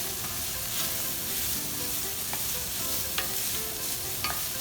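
Burdock root stir-fries in oil in a pan, a dense steady sizzle close by, broken by occasional spatula clicks and scrapes as the pieces are tossed, with no talking.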